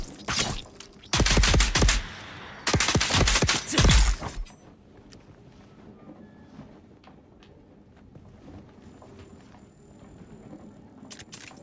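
Gunfire in the video game Dune Awakening opens with two loud bursts of rapid shots, each lasting over a second. Quieter scattered ticks and distant pops follow.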